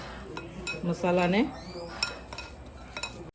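A spoon scrapes and clinks against a bowl while stirring a spice mix of salt, sugar and oil for stuffed eggplant, a few sharp metallic taps and scrapes close by, with a short spoken word in the middle.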